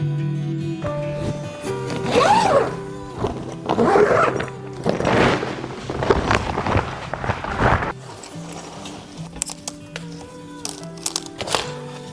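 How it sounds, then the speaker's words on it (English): A zipper is pulled closed on a storage bag holding greenery and garland. The zipping comes in several quick, scratchy bursts, close and fairly loud, and short handling knocks and rustles follow. "I need to put that greenery in this bag before I zip it up."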